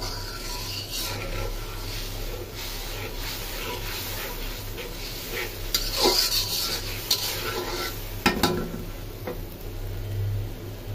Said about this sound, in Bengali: কষানো হোক মশলাটা ভালো করে